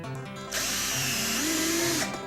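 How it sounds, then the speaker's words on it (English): A power drill whirs for about a second and a half, its motor pitch dipping and rising as a screw drives into wood. "When Candace gets better acquainted with the drill, she starts screwing."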